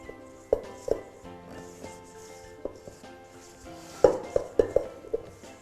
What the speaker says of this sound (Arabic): بهذه الطريقه نبدا نحرك هنا